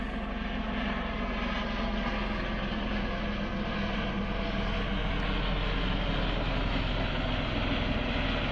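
Helicopter circling overhead, as if waiting to land near homes, gives a loud, continuous droning engine and rotor roar with a steady, unbroken level throughout.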